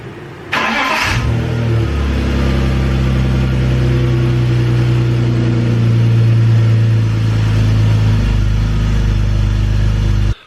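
A BMW E46 323ci engine, just refilled with coolant, cranks briefly and catches, then settles into a loud, steady idle with a slight rise in revs before it shuts off, close by with no talking.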